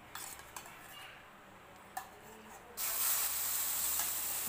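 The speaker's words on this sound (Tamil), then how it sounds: "ஸோ வந்து நம்ம இப்போ அந்த நூடுல்ஸ் ஆம்லெட் வந்து போட்டுடலாம்" Noodle omelette batter hits a smoking-hot dosa tawa with a sudden loud, steady hiss and sizzle, preceded by a few faint clinks of utensils.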